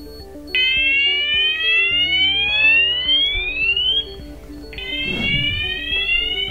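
A C-TEC Hush-Pro Grade C fire alarm in a flat sounds at Fire Level 1, giving loud repeating electronic sweeps that rise in pitch, with a brief pause partway through and a clattering noise near the end.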